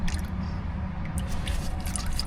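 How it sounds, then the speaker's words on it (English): Motor oil draining from a car's oil pan in the rain at an auto parts store lot, a steady wet pouring and dripping patter that runs continuously and fairly close. "So now oil draining, y'all."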